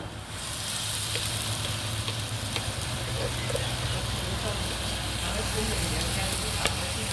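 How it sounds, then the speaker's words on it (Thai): Beaten egg sauce hits a hot pan of stir-frying curry-powder squid with a loud, steady, close-up sizzle that rises suddenly and holds throughout. "ซอสที่เราตีไว้ลงเลยครับ"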